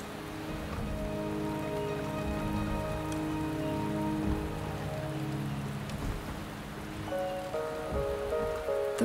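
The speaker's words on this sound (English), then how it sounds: "The rain is subsiding, and the sky will soon clear." Rain falling in the game Wuthering Waves, a steady close hiss of drops on surfaces running throughout beneath sustained background music, with a few faint sharper taps.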